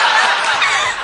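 A parrot mimics a chimpanzee with a loud, harsh, breathy screech held for about a second. The bird's voice imitates the ape's call.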